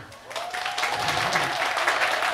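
Crowd at a Korean pumba festival applauds in a continuous loud burst, with a brief tonal sound rising early on over the clapping.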